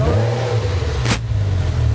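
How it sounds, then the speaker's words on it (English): A car engine revs steadily as the car pulls out, a constant low hum with a brief sharp hiss midway. "As Callum was pulling his car out"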